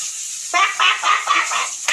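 Ducks quacking close by in a home setting: about six harsh, nasal calls in a quick, uneven series, each short and loud against a quiet background.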